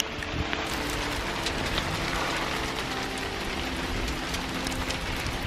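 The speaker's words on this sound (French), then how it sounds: "Première averse de grêle de l'année." A hail shower falls steadily, a dense, even hiss of many small impacts pattering across surfaces outdoors, continuous and moderately loud with no voices.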